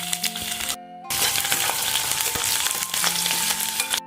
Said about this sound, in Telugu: తర్వాత ఎల్లిపాయలు కూడా వేసుకుందాం